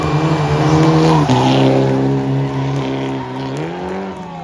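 A race car on a live Friday-night city street race in the Algarve, Portugal, roars loud and close with a sustained, shifting engine note, tires squealing as it accelerates past.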